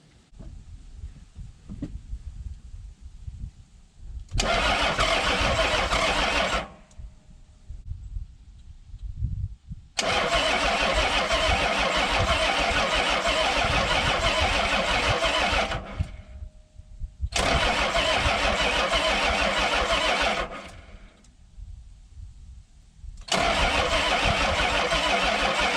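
A 1994 Isuzu cab-over truck that sat for three years cranks and fires up in repeated attempts, bursts of loud engine noise broken by short pauses of cranking and quieter running.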